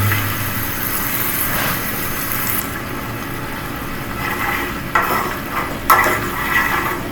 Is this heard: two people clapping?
no